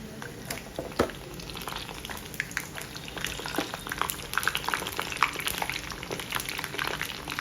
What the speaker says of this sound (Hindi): यहाँ पर हमने एक कढ़ाई में ऑयल ले लिया है। ऑयल हमारा अच्छे से गर्म हो चुका है, तो चलें इनको डीप फ्राई कर लेते हैं।